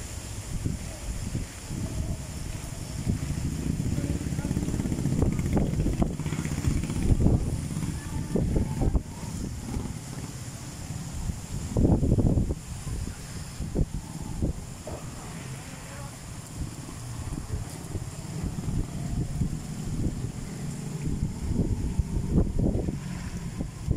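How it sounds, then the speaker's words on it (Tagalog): Strong typhoon wind, from Typhoon Kristine in 2024, buffets and roars around the microphone in rising and falling gusts, with people talking underneath. "napakalakas ng hangin. Yan ang bugso niya."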